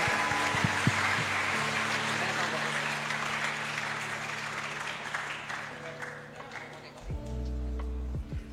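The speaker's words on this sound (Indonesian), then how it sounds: "Kita beri tepuk tangan yang meriah kepada Bapak Uskup" Sustained applause from an audience welcoming a bishop at an evening gathering, a dense steady clatter of many hands that tapers off toward the end.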